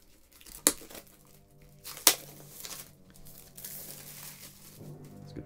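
Plastic wrap is torn off a Blu-ray box set at close range, with two sharp rips followed by soft crinkling and rustling of the film, fairly quiet overall.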